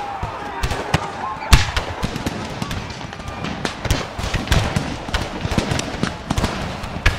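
Scattered musket volleys from a Civil War battle in a video game, with Zouave infantry and snipers firing across the field: sharp cracks come irregularly, one louder shot early, the rest steady mid-distance pops over a busy battlefield background.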